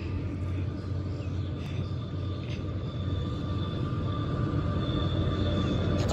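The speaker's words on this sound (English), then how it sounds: "It's a coal train." A Norfolk Southern ES44AC locomotive leads a loaded coal train, heard as a steady low rumble and rolling drone with a faint tonal whine, continuous and fairly loud throughout.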